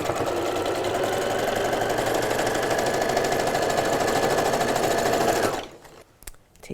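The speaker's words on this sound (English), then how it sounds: "And now we're sewing the other side." A sewing machine stitches the side seam of a fabric surgical mask, running loud, close and steady in a fast continuous whir for over five seconds before stopping abruptly.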